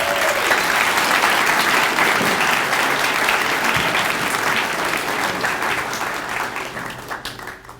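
An audience at a high school senior awards ceremony applauds the softball seniors, with loud, steady clapping from a large crowd that holds for several seconds and then slowly fades.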